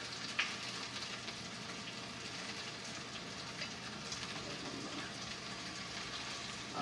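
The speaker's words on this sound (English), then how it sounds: "a tiny piece of onion, so I heard that start sizzling" A small piece of onion sizzles in hot oil in a small pan while frying for pork shogayaki, giving a steady, fairly faint crackling hiss with tiny pops throughout.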